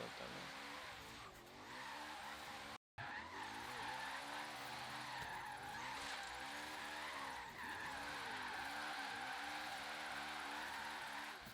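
In the racing game Forza Horizon 3, a car drifts and slides across asphalt with sustained tire squeal and a revving engine whose pitch rises and falls, briefly cut by a moment of silence.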